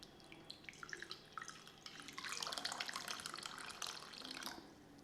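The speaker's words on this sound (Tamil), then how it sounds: "அரிசி கழுவின கழுநீர் தண்ணியை நான் இதில் சேர்த்துக்கிறேங்க" Rice-washing water pours and splashes into a pot, beginning with scattered drips and then a steadier trickling pour, quiet and close.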